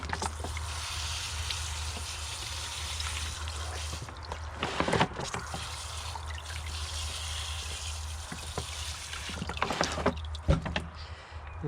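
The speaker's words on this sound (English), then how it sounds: "I now take my little bucket with water, and then I'm going to give it a good rinse" Water sloshing and trickling as a bromeliad plant is rinsed in a small bucket, a steady wet swishing with a few sharper splashes near the middle and end, no talking.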